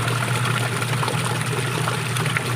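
A washing machine wash tub spins with a noisy, worn gear case, giving a loud, steady churning and watery hum with a constant low drone and no pauses.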